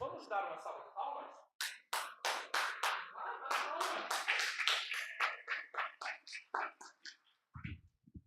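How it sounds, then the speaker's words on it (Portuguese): An audience claps together at a church service, a loud burst of applause building and sustained for several seconds, with a voice speaking at the start and end. "Vamos dar uma salva de palmas?"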